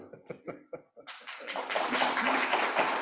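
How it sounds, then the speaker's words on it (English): Applause from a conference audience for a finance panel, a few sparse claps at first that swell into sustained, dense clapping filling the room. "I'd like to thank my panel with a round of applause"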